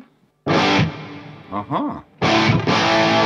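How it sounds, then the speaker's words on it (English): Electric guitar played through a vintage 1980s rig with a Lexicon PCM-91 reverb in parallel: two loud, sustained distorted chord bursts with a reverb tail, separated by a softer bent-note phrase, with a brief spoken interjection. "we can add the reverb if we want. That was the PCM-91."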